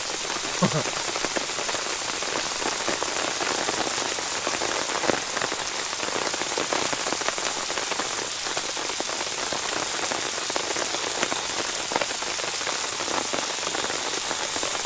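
Steady rain patters continuously on a tarp close by, a dense even hiss of drops with no pauses.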